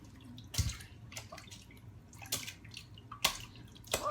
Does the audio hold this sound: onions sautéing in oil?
no